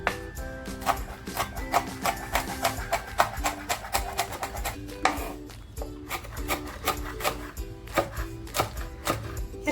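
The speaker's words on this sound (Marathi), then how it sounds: "तीन मिरच्या आहेत ना त्या मी फक्त अशा कट मारून घेते" A knife cuts green chillies on a board, giving a rapid run of close, light chopping taps with faint scraping, steady throughout.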